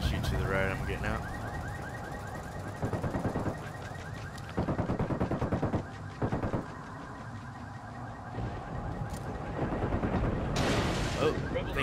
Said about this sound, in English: Oh, things are exploding